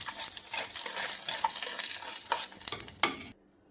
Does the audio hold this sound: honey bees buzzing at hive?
no